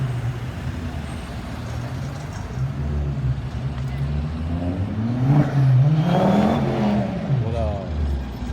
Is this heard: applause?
no